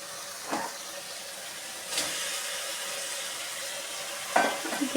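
Sizzling and stirring in a pan as sugar is added to shim paturi during sautéing, a steady hiss with a few louder scraping stirs.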